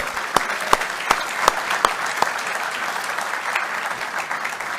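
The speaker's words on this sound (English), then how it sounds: "Just give yourselves a round of applause." A conference crowd claps at a leadership event, a steady wash of applause with a few sharper, louder claps standing out near the start, continuing evenly to the end.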